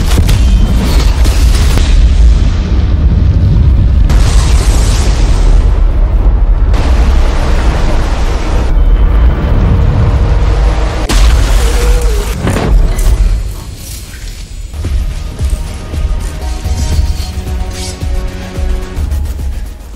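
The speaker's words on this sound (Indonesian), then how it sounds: "Bom pun dilepaskan dan dalam hitungan 6, 5, 4, 3, 2, 1, boom!" A bomb goes off in a 2024 special forces action film, a series of huge booming blasts with deep rumbling that roars loudly for several seconds before settling into quieter debris noise and music.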